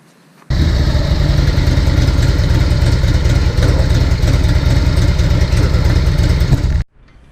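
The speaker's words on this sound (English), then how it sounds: "I'm going to start her up. We're going to let her warm up." A Harley-Davidson Electra Glide Ultra Classic motorcycle engine idles steadily and close by while warming up, a continuous rumbling drone that starts abruptly and cuts off after several seconds.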